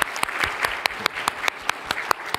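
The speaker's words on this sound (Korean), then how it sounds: "우리 환영의 박수 드리겠습니다" A church congregation claps together in steady, lively applause during a service, with sharp individual claps standing out over the constant patter, and no one speaking.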